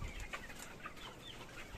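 Chickens on a poultry farm, hens and roosters kept together, clucking softly and intermittently at a distance in a low, steady background murmur.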